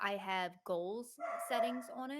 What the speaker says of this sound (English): I'm so sorry about my dogs.